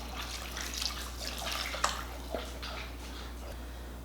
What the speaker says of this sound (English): take this residual water from when we roasted those New Mexico chilies. I'm gonna pour it in the pot as well